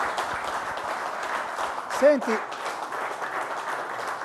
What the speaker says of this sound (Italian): ti facciamo un applauso